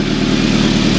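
Toyota Tacoma idling with an exhaust leak, a steady, close engine rumble with a fine rhythmic rattle running underneath, brief and continuous.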